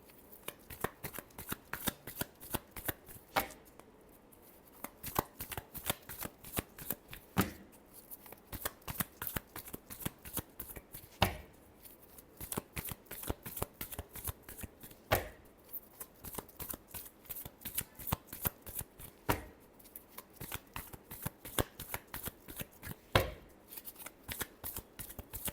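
Tarot cards are shuffled close by in soft, repeated riffling bursts that come in a loose, steady rhythm over a quiet background, with no talk.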